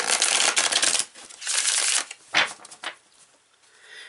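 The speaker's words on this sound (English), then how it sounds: "So I'm going to pull out some more cards with this." Tarot cards are shuffled and drawn from a deck in short riffling bursts with pauses between them, close and clear with no talking.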